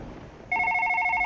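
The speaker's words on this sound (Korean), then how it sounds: "갑자기 전화가 와요?" A telephone starts ringing partway through in a horror video game set late at night in an office, a steady electronic trill that continues loud and clear.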